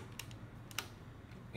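Short bursts of keystrokes on a computer keyboard as a command is typed to link a VK236 expander to a VK2100 panel, quiet clicks spaced across a faint, close background.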